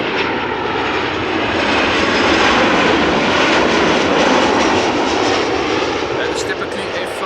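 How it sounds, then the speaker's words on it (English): Boeing 737-800 jet arriving at Amsterdam Schiphol Airport after a flight from Paris, a loud, steady roar of jet engines that holds for the whole stretch and swells slightly midway. "This is a Boeing 737-800 arriving from Paris Charles de Gaulle."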